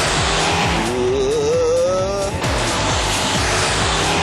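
A Saab 9-5 Aero accelerates hard in second gear, its turbocharged engine note climbing steadily and loudly, then a gear change around the midpoint drops the pitch before the engine pulls again under heavy load.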